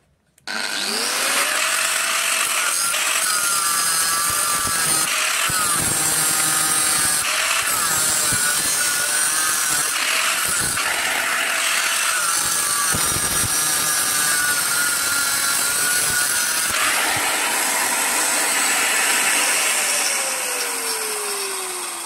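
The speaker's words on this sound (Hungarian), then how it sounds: "Mutatom, hogy hogy vágom le ezt a cuccot." Power tool cutting rusted parts during Honda Civic hatchback rust repair: a continuous, loud, high-pitched grinding whine with shifting pitch and brief dips as the blade bites, running almost unbroken for over twenty seconds.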